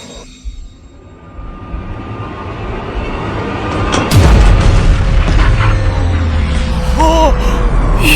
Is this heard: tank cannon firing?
yes